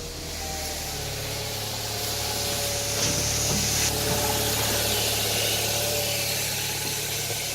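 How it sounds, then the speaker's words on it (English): A 2004 Saab 9-3 engine runs steadily with a low, constant rumble and hiss, close by and unchanging throughout, with no talking. "get her fired up, let her run for a bit."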